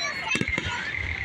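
Fourth of July fireworks go off in a quick burst of several sharp pops and crackles amid a whistling tone.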